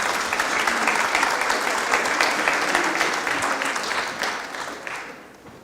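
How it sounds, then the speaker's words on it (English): A city council meeting audience in the chamber breaks into applause, a dense wash of many hands clapping steadily for several seconds before gradually thinning and fading out. "Let's give them all a round of applause."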